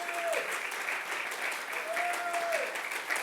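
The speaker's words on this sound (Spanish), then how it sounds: "alguien tiene que darle un aplauso a Jesús." A church congregation applauds during a sermon, sustained dense clapping filling the room at a steady level, with faint tonal sounds drifting underneath.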